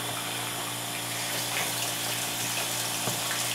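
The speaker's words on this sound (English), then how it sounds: "I can turn on the water and my machine is filling." Water pours from a hose into a Panda compact portable washing machine, a steady close rushing and splashing that fills the whole stretch with no talk.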